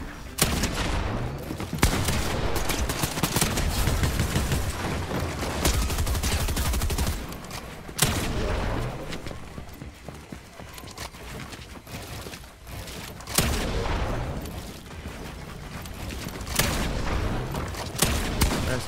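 Gunfire in a shooter video game: loud bursts of rapid shots and fusillades come in waves over busy game sound, with no voices.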